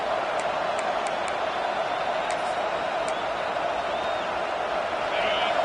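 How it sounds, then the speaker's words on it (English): A football stadium crowd roars continuously in the distance, a dense wash of cheering that holds steady throughout, with a commentator's voice over it. "Listen to the crowd energy here in the early going."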